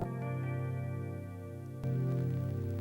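A single clean electric guitar bar chord rings out and sustains, then is struck again and rings on, bright and clear, with no voices.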